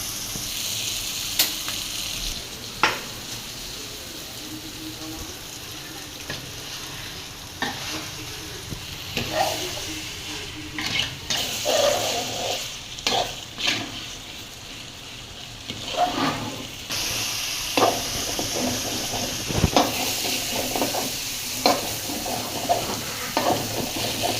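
Chicken and yardlong beans sizzling and frying in a pan, with repeated scraping stirs and clinks of a utensil against the metal over a steady hiss, close and moderately loud, no talk.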